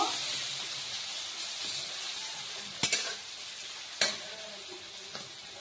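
Lentil paste with salt and turmeric fries gently in a pan, giving a soft continuous sizzle with a few sharp clinks from a utensil, and no one speaks.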